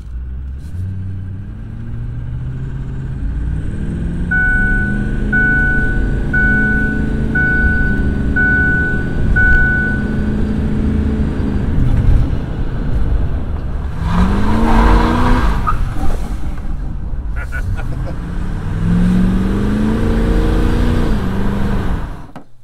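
A Ford 6.4 Powerstroke diesel truck drives along with a loud, steady rumbling engine drone, rising revs and shifting tones, plus a short series of chiming beeps early on.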